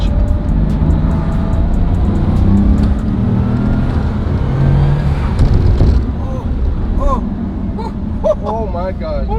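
A car out on a drive after getting new tires, with a loud, close engine roaring and revving steadily before easing off; voices talk over it near the end.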